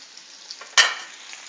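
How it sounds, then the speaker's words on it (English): Chicken pieces meet a hot pan for searing, giving one sudden sharp sizzle that fades quickly over a faint background hiss. "So we're going to sear those off."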